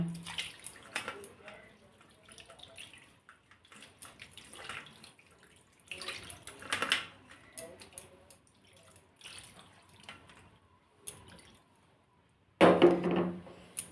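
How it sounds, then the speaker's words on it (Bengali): Fresh chhana curdled with vinegar being rinsed in small splashes of water, intermittent watery sloshing and trickling in bursts with quiet gaps between, close and moderately loud, ending in a louder splash. "অল্প অল্প জল দিয়ে ধুয়ে নিচ্ছি"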